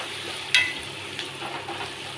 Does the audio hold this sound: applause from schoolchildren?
no